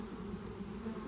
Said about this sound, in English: see the bees for a minute.